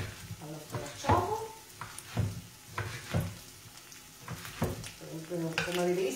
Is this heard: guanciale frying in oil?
yes